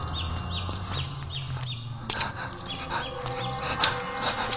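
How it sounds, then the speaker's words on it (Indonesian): Thin, repeated chick peeps sound in quick bursts as an effect in an Indonesian horror radio drama, set over a low, droning background and fading into rustling and soft knocks. "suara anak ayam itu semakin terdengar jelas mengikutiku"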